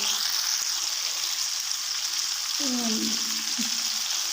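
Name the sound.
chicken shashlik sticks cooking in a pan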